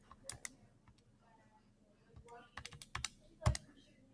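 Calculator keys are pressed while numbers are entered, giving a handful of quiet, sharp, separate clicks, some in quick pairs and clusters, in a quiet room.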